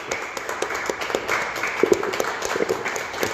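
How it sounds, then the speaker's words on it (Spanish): Audience applause at a lecture on rodeo and cowboy culture, a dense, steady patter of many hands clapping, moderately loud and sustained throughout without speech. "les vuelvo a pedir un fuerte aplauso aquí para el doctor"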